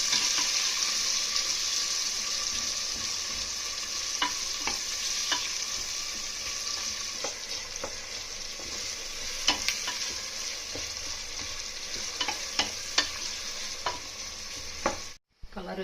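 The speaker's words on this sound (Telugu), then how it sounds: "కట్ చేసుకున్న ఎర్రగడ్డలు, పచ్చిమిరపకాయలు వేయాలి. వీటిని బాగా దోరగా వేయించాలి." Chopped onions and green chillies frying and being stirred in a pot for mutton biryani, a steady sizzle with scraping strokes of a spoon throughout, briefly cut off near the end.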